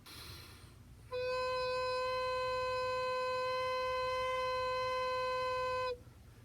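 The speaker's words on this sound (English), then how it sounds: "that's what helps make a nice, pleasant, round, warm tone like this." A recorder holds one steady, round, warm note for about five seconds, clear and even in pitch over faint room noise, then stops.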